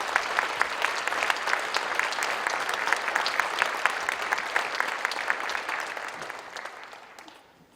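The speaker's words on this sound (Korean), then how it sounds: "박수로 모시도록 하겠습니다." A church congregation gives a pastor a welcoming round of applause: brisk, crowded clapping that stays strong, then tapers off and dies away at the end.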